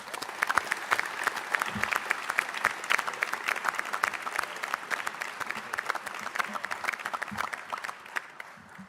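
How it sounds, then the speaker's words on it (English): An audience at a press event applauds youngsters with steady, dense clapping that carries on for several seconds, moderately close and without speech. "Let's give these youngsters a round of applause"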